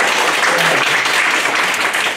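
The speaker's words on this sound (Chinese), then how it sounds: "我想我们用非常热烈的掌声欢迎我们今天的主人翁" Dense, steady applause from a lecture audience welcoming Professor Ye to a talk on Chinese gardens, a continuous wash of clapping filling the short moment at close range.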